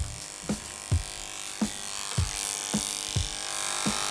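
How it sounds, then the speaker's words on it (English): Electric clippers grooming a nervous dog from the neck up to the throat: a steady, close buzzing hum with several soft bumps and knocks as the blade is moved, and nobody speaking. "I'm gonna clipper all the way to the throat where the head meets the jaw"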